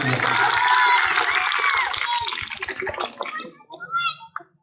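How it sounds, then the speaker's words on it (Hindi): Crowd applause and cheering at a stage show with a comic host: a loud, dense wash of clapping for about three seconds that drops away abruptly, followed by brief voices. "एक बार तालियां बजा दीजिए"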